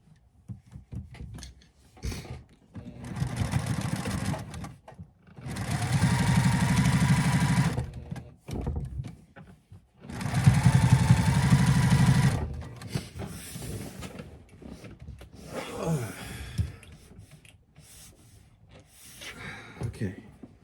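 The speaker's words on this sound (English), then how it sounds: "let's go ahead and start sewing" Sewing machine stitching patchwork pants, running in two long steady bursts of several seconds each, close and fairly loud, with quieter handling sounds and brief pauses between.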